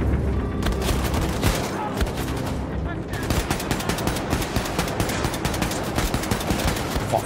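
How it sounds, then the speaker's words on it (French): Rapid, continuous machine-gun bursts roar up close in the shooter game Wolfenstein II: The New Colossus, dense overlapping shots with booming impacts running throughout, with a brief lull near the middle. "je devrais prendre un autre flingue parce que ça mitraille pas assez"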